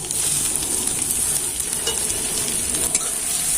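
Garlic, ginger and dried red chilies fry in hot mustard oil, giving a steady, close, dense sizzle that holds without a break and has no voices over it.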